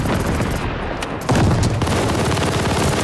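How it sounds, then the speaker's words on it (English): Bombing run explosions in a first-person shooter, loud dense crackling blasts that swell sharply partway through and keep rumbling to the end. "Allies called a bombing run."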